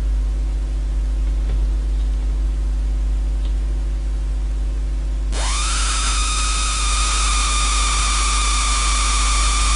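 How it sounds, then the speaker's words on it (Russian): A homemade high-voltage device with a lamp and a spark gap is switched on, and a steady electrical hum jumps into a loud, harsh, buzzing whine as the spark runs continuously across the gap. "вот пошла искра через разрядник"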